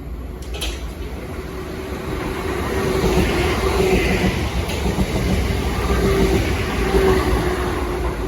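A Southeastern Class 465 electric train passes at Wandsworth Road, a loud sustained rumble and rail roar with a faint tonal whine, building slightly and holding steady throughout.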